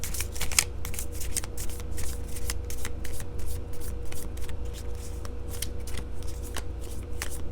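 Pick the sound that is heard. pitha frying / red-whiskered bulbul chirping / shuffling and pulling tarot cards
shuffling and pulling tarot cards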